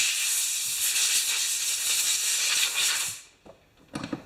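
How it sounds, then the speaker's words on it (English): Loud, close hiss of compressed air blown through a lawn mower air filter, a steady rushing blast for about three seconds before cutting off, followed by a few faint clicks and handling noises. "I'm going to squirt a little air through it."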